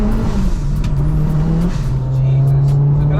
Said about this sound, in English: Yeah, this is an aggressive turbo